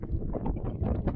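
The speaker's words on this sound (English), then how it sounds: "It's a bit windy" Gusty wind buffets the microphone on Black Sands Beach at Porthmadog in Wales, a steady, loud, broadband rumble with low-frequency swells and no voices.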